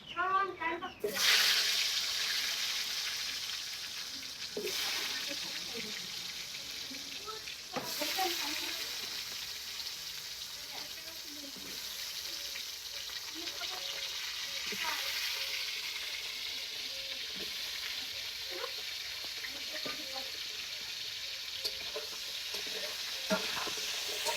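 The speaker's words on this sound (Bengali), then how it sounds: "তেল গরম করতে দিয়ে দিচ্ছি এই যে আলু দিয়ে দিচ্ছি" Potatoes coated with turmeric and salt hiss and sizzle steadily in hot oil. A continuous frying crackle runs throughout, broken by occasional sharp clinks of a utensil against the pan.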